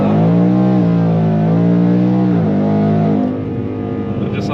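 A car on large semi-slick rear tyres accelerates hard on engine power alone without nitrous, its loud droning engine note rising and shifting through gears before dropping away near the end.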